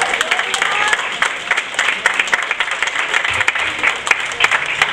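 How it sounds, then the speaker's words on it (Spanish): A church congregation applauds the Lord during a service: a dense, continuous wash of many hands clapping together, loud and sustained with faint crowd murmur beneath. "Denle ese aplauso al Señor."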